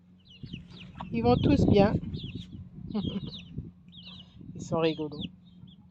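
Small backyard chickens cluck in several short bursts close to the microphone, with a person talking over and between the calls.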